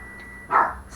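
A single short dog bark, sharp and fairly loud, rises out of a quiet room and is gone within a fraction of a second.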